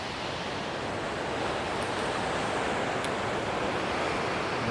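Steady, loud rushing of the swollen Queanbeyan River after rain, a dense continuous roar of water flowing near a spillway, filling the scene without pause or voices.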